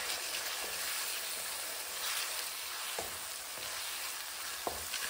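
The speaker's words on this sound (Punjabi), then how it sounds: "ਛੇ ਤੋਂ 7 ਮਿੰਟ ਤੱਕ ਪਿਆਜ਼ ਨੂੰ ਮੀਡੀਅਮ ਸੇਕ 'ਤੇ ਭੁੰਨ ਲੈਣਾ।" Grated onions frying on medium heat in a pot for Amritsari chole, a quiet continuous sizzle broken by a few sharp scrapes of a spoon stirring.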